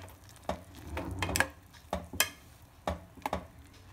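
Vegetable Maggi noodles with tomato and paneer cubes cooking in a pan on a low flame, with soft sizzling and a few sharp clinks and scrapes of a spoon stirring at irregular moments.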